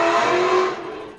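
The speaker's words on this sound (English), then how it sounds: "Someone revving their engine." A car engine revs hard and close, a loud sustained roar that holds steady and then fades slightly toward the end, with no voices over it.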